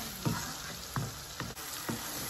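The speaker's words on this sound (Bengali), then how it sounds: "সেই মশলাটাকে আমি ভালো মতো এখন ভুনে নেব।" Spice paste for whole masoor dal khichuri fries in hot oil in a Bengali home kitchen, giving a steady, dense sizzle with soft periodic stirring scrapes every half second or so.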